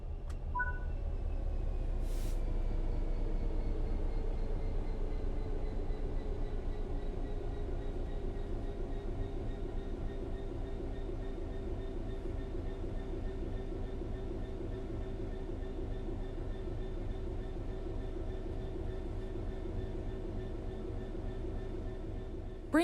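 Train in Train Sim World 3 coasting on level ground with the throttle at zero: a steady low rumble with faint rail clatter and a soft high whine, slowly easing over a long stretch with no talk.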